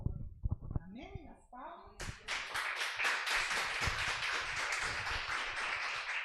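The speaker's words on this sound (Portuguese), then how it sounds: "As palmas que vocês bateram glorificam o nome do Senhor." A church congregation at a family service breaks into loud, dense, sustained clapping after a few sharp claps and a brief voice, the applause filling the room and continuing steadily to the end.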